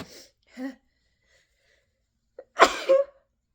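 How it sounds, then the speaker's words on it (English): A short breath or two, a pause, then one abrupt, explosive sneeze with a brief voiced tail, close and loud. "I have a sneeze coming"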